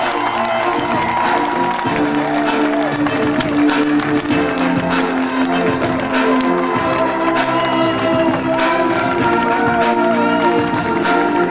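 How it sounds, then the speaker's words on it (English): Crowd at a Michigan high school Division 2 basketball final between Forest Hills Northern and Warren De La Salle cheers and applauds the two finalist teams, a dense, steady roar that stays loud throughout. "How about a big round of applause for our 2 finalists?"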